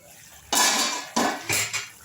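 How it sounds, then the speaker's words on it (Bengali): A metal lid set onto a cooking pot of fish curry after water is added, giving a sharp clatter followed by two shorter rattling clanks as it settles, close and alone. "জল দিয়ে আমি একটু ঢাকা চাপা দিয়ে দিলাম 1 মিনিটের জন্য"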